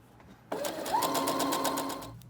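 Sewing machine stitching the shoulder seams of a duster coat, starting abruptly with a steady whirring hum that holds for under two seconds before stopping, close and clear with no talk.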